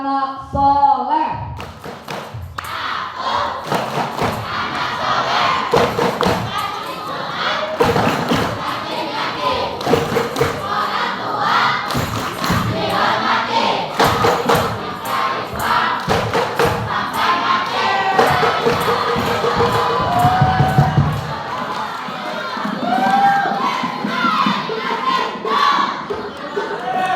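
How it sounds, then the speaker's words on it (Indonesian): Children at a madrasa gathering for an Isra Mi'raj sermon chanting a rhythmic clapping chant together, loud group voices and claps repeating in bursts, close and lively throughout. "Tepuk anak soleh."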